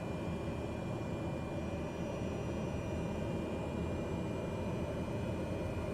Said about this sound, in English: Turboprop engines aren't known for being quiet